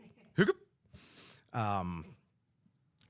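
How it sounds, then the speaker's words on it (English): A man's sharp, close hiccup, a sudden vocal gulp followed by a breathy sigh and a longer voiced exhale, in a quiet indoor setting. "That hiccup."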